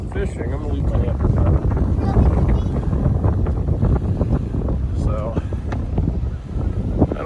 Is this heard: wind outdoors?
yes